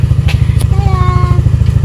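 A motorcycle or scooter chugs close by with a fast, even engine pulse throughout, while children's voices call out over the engine during a short ride.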